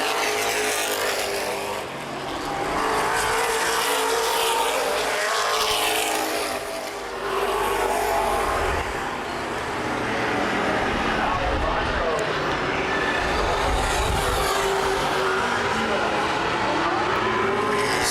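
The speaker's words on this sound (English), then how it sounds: "Stovall in the 53, Hoffman in the 2, both of them trying to chase down Dave Bice in the 1X." Late model stock cars race around Baer Field Speedway, a dense, continuous engine roar from several cars swelling and fading as they pass, with a race announcer talking over it throughout.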